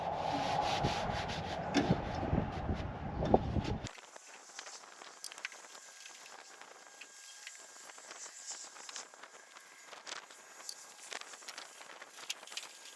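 A cloth rubbing patina sauce onto the body of a Honda N600 mounted on an RZR 900 gives loud, close scrubbing strokes for a few seconds, then drops to faint, scattered scuffs and near quiet.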